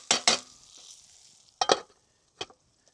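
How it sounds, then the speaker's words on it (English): Food in a pot stirred over hot campfire coals, heard as three separate bursts of scraping and clatter with quiet gaps between them and a faint sizzle underneath. "So we can just keep stirring this until it's done."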